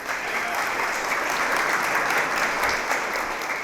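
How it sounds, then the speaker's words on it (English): Steady, dense applause from a museum audience greeting the artist Brian Maguire at an artist conversation, a continuous wash of many hands clapping at even loudness throughout. "And if we could just give Brian a round of applause"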